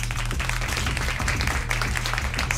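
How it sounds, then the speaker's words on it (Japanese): An audience applauds a contestant at an under-22 rap battle in a Tokyo club, with dense, loud clapping and crowd noise over a booming bass beat. The sound stays steady and continuous throughout, with no talk. "大きな拍手を"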